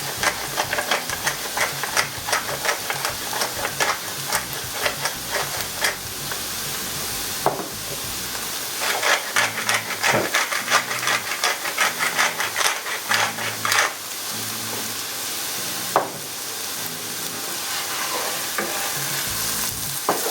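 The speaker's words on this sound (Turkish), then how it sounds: "Şöyle biraz daha kavuracağım baharatların aroması iyice çıksın diye" Zucchini sizzles and fries with spices in a hot pan, a steady close crackling hiss with repeated scraping stirs over about twenty seconds and no talking.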